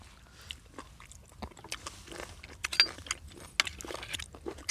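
Someone eats large spicy Thai-Lao apple snails, chewing with crisp crunches, irregular bites and soft mouth noises, close and fairly quiet with no talking.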